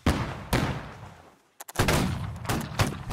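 Musket volleys in the Holdfast: Nations At War line battle: several loud, sharp musket shots ring out, each trailing into a rumbling decay, with a brief pause before a ragged second cluster of fire.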